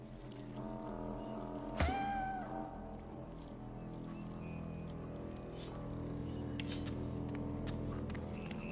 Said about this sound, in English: The undead cat arches